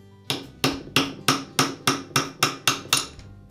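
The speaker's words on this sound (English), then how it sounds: "using a rubber mallet, I'll tap the armature shaft away from the bearing" A rubber mallet taps the armature shaft of a Makita angle grinder out of its bearing, ten evenly spaced, sharp knocks close up with brief ringing decay between blows.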